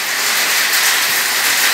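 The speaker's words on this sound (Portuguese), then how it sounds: "chovendo gelo" Dense, continuous hiss of hail pelting down hard and loud across surfaces during a rainstorm in Aparecida de Goiânia, Brazil, a steady roar with no pauses.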